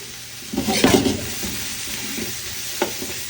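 Eggplant being stir-fried with carrot and minced garlic in a pan, a sizzling hiss under repeated scraping stirs, louder near the start and with a sharp tap near the end, no voices.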